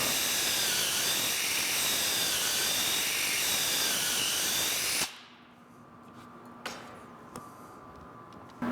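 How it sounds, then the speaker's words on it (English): A loud, steady power drill whirs continuously for several seconds drilling dowel holes for an end table, then stops abruptly, followed by a few faint clicks and taps in a quiet room. "we will be drilling to half the depth of the dowel."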